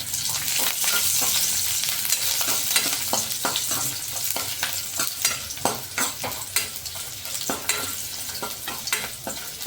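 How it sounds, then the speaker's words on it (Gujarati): Dried garlic cloves and ginger pieces roasting in a hot pan for matar paneer, a continuous loud sizzle broken by repeated sharp scrapes and stirring knocks. "હવે તેમાં સૂકા લસણની કળી નાખશું આદુના ટુકડા પણ સાથે નાખી દેશું જેથી કરીને તે પણ સરસ રીતે શેકાઈ જાય"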